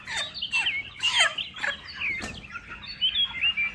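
Close, agitated squawks and clucking bursts from a chicken on a poultry farm, repeated in short uneven outbursts with brief pauses between them.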